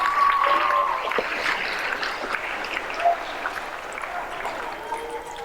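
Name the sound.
audience applause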